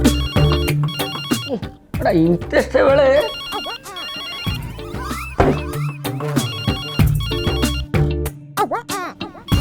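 Landline telephone ringing in repeated electronic bursts, fairly loud, under and between people talking and some music in a household scene.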